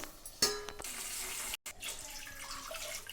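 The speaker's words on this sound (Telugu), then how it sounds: "2 గ్లాసులు రవ్వకి నేనైతే 3 గ్లాసులు వాటర్ వేసుకుంటున్నాను" Water pours from a glass into a pan of tempered upma seasoning, a splashing gush with a sharp onset, a brief break, then a softer continued trickle, fairly faint and close.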